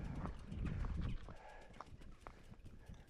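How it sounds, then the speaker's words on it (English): Cattle being driven along a rural road in Ayrshire, heard as a dense shuffle of hooves and body noise that fades after about a second, followed by scattered, fainter hoof knocks and movement. "They must be moving cattle."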